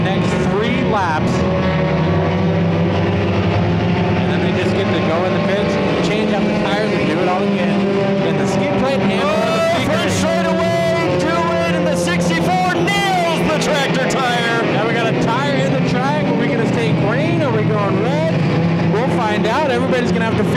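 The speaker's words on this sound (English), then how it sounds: "These cars are all going to be bubbling over, boiling hot." Race cars roaring around the Irwindale track during a night enduro, engines droning loud and steady throughout with commentators talking over the constant racing noise.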